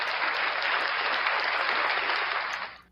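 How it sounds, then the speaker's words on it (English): A short burst of dense, steady clapping from a small audience welcoming a special guest on a talk show, fading quickly at the end. "a round of applause for our special guest"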